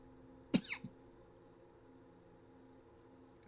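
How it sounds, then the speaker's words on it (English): A single sharp cough from a person, followed by a quick softer catch of breath and a faint knock, in a quiet room with a low steady hum underneath. "Goddamn cough."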